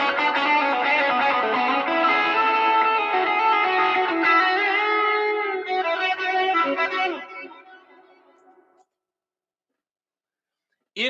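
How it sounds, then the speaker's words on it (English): An electric guitar played through an amp with reverb and delay rings out in sustained, distorted chords for several seconds, then the notes trail off into echoing decay and silence, with a short burst at the very end. "If I put a reverb and a delay on"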